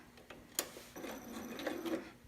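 A sewing machine back stitches over a bodice seam on a romper, a short, faint whirring run that starts after a brief click.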